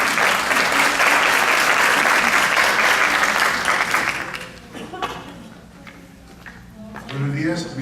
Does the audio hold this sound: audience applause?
yes